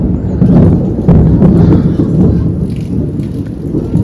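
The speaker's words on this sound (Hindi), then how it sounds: "फिर से बारिश शुरू" Steady monsoon-style rain pours down in India throughout, a dense broadband hiss with occasional heavier bursts and low rumbling underneath.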